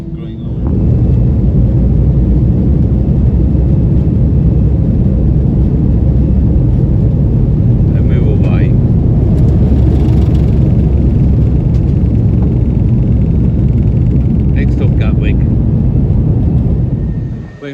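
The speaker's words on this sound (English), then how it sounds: "we're just getting ready now, just lining up on the runway to take off" A passenger jet lines up on the runway and takes off for Gatwick, its engines a loud, steady low roar that fills the whole stretch, with only brief lighter noises on top.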